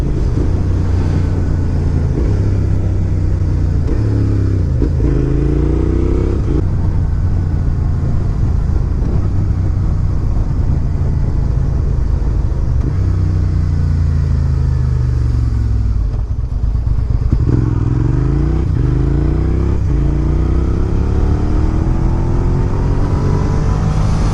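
A second-generation Suzuki SV650S motorcycle rides through traffic above the speed limit, its engine loud and close as it repeatedly revs up and shifts gears in rising sweeps, with wind roar throughout and no talking.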